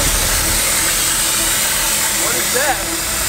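A damaged car gives off a steady, loud sizzling hiss that runs unbroken through the whole moment, with people talking close by.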